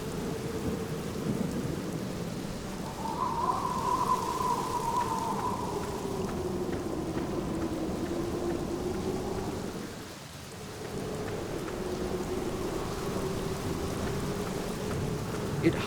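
Steady rain with low rolling thunder in the gloomy sanatorium graveyard of The Black Mirror, a 2003 adventure game, continuous and fairly loud throughout, with a tonal ambient drone underneath and no speech.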